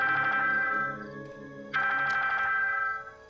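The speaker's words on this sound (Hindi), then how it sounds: "रॉयस का फोन। स्पीकर पर लगा।" A telephone rings in two long electronic bursts, loud and close, the second starting after a brief dip, with no talking over it.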